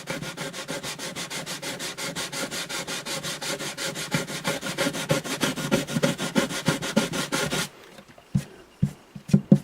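Sandpaper sanding the rosewood bridge of an Alvarez Artist AD65 acoustic guitar: a steady, fast back-and-forth rasp that goes on for several seconds, then stops and leaves a few scattered scrapes and taps.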